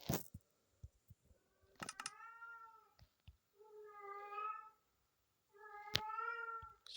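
A house cat meows three times in drawn-out, clearly pitched calls, close and fairly loud, with a few soft clicks and taps between them and no talking.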